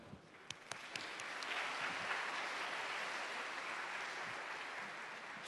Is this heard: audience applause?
yes